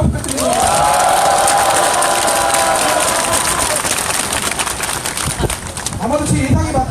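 Rally crowd applauding and cheering for police officers outdoors, a loud sustained wash of clapping with a raised voice and shouts over it, tapering slightly before voices pick up again at the end.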